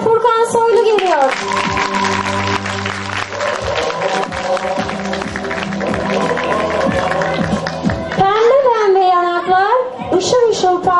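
Applause and cheering from an audience at a kindergarten end-of-year show greet a pupil coming on stage, loud and sustained, with children's voices and an announcer talking over and around it.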